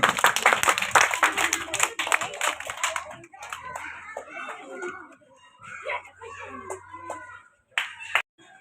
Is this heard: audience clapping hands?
yes